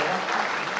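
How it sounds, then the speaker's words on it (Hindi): Loud, dense applause from the audience at a large Hindi comedy poetry gathering (hasya kavi sammelan) in Rajasthan, steady and continuous with no break throughout. "एक बार और जोरदार तालियां"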